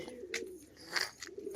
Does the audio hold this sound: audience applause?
no